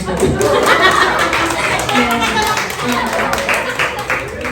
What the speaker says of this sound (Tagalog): Palakpak naman daw